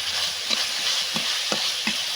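Chili powder and chili paste frying in a pan while being stirred for a fish roe dish, a dense close sizzle with several soft scraping strokes at regular intervals and no speech.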